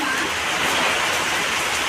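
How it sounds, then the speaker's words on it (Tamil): Steady rain pours down in a dense, even hiss, close and loud throughout with no other distinct sounds. "நல்ல மழை பெய்யுது."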